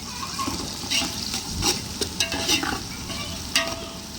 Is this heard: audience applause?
no